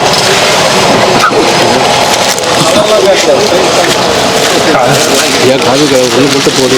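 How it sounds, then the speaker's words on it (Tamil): Heavy rain pours down steadily during an outdoor food-giving event for sadhus, a loud, close, unbroken hiss with voices mixed in underneath. "நல்ல மழை பெய்யுது"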